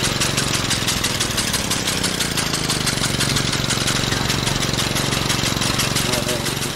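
Massey Ferguson 65 tractor engine chugging steadily at idle nearby, a continuous rhythmic diesel knock with broadband rain-like noise over it on a wet farm day, no speech.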